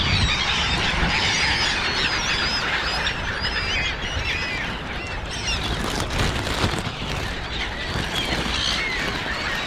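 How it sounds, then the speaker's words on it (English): Hungry seagulls squabble over food on a wintry day, a dense, loud chorus of overlapping squawks and honking calls that carries on without a break. "Seagulls are really hungry today."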